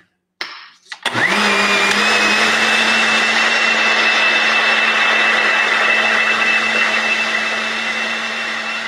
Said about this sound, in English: Just put it back on the blender, cover it up.